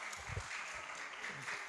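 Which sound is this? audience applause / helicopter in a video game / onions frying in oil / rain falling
audience applause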